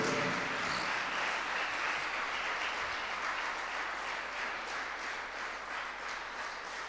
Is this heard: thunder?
no